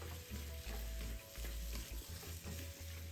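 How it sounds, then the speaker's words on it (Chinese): Sliced onions being stir-fried with a dark chili spice paste in a pan, a dense, continuous sizzle with soft scraping stirs, steady and close throughout. "将辣椒香料与洋葱一起炒匀。"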